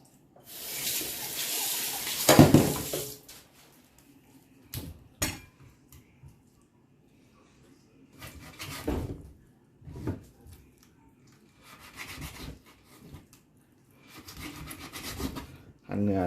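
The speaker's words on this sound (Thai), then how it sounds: "เริ่มหั่นนี้เลยครับ" A knife slices through beef on a cutting board in short bursts of rasping strokes, close and fairly loud, with quiet pauses between the cuts.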